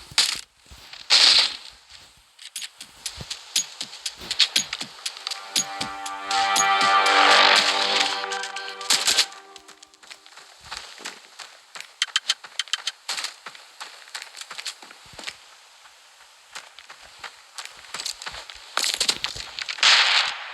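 A grenade blast in the mobile shooter Standoff 2, a sharp crackling burst with ringing debris around the middle, set among rapid gunfire clicks, footsteps and other game effects in a busy match.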